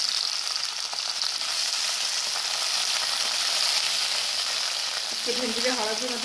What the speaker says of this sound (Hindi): भेंडीटा भाजवाप तेल गरम हो भेंडी भाजदे